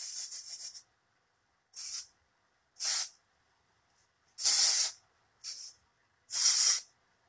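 Dove Care dry shampoo sprayed onto hair in six separate hissing bursts, some short and some longer, close and loud, with silence between them.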